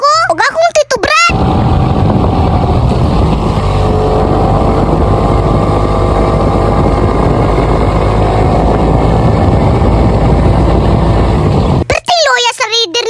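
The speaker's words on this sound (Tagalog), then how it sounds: "Ang makina sa motor! Kay mura nagmabuak!" A motorcycle engine labors loudly up a very steep road in Diwalwal, Mindanao, a dense, sustained straining roar close by, carrying three riders; a voice shouts briefly at the start and end.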